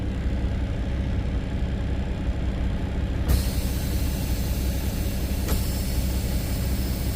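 A truck engine idles with a steady rumble, then a sharp hiss of air brakes releasing bursts out, followed by a second brief hiss, on a tractor with a leaking tractor protection valve.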